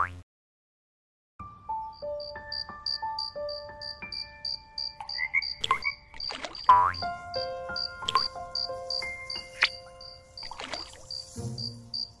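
Cartoon frog croaks repeatedly over a busy animated soundtrack of boings, tones and music, alone without talk, from a children's animated story about a greedy little frog.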